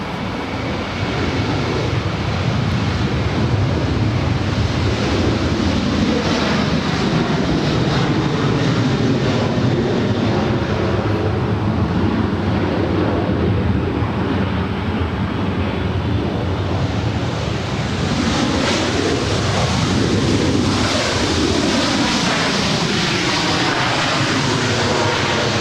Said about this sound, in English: This arrival is Southwest Airlines 2784 coming in from Phoenix. It's a 3-year-old 737 MAX 8.